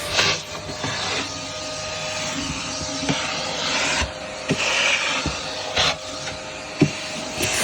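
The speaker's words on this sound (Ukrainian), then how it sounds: "Тепер пилосос." A vacuum cleaner drones steadily close by, with scraping and bumping noises as it moves across surfaces; no one speaks.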